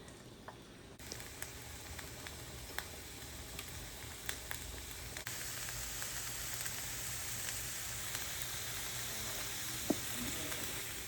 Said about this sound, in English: I'm going to cook some onions in here. I just melted a little bit of butter in here.